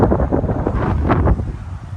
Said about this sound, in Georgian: ქარიანი ამინდია, რაც ძალიან მახარებს.